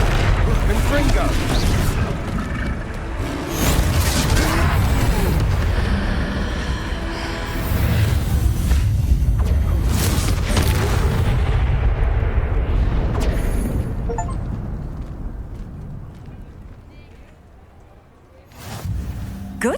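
Confringo blasting curses erupt in Hogwarts Legacy during a troll fight, loud booming explosions repeating in quick succession under game voices and combat noise before trailing off into quieter rumble, with one more burst at the end.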